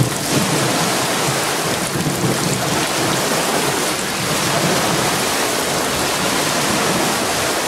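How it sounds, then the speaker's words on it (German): Heavy rain during a thunderstorm pours down in a loud, constant hiss and roar that continues without a break. "In der Stunde regnet es deutlich mehr."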